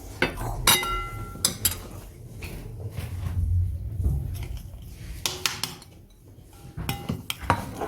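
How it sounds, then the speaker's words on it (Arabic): Ingredients mixed with spices are whisked in a bowl, giving irregular bursts of bright metallic clinks and scraping against the bowl, with short quieter gaps between the strokes. "نخفق كويس لحتى يندمجوا"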